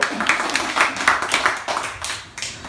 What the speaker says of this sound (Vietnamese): vỗ tay lớn lên được không ạ?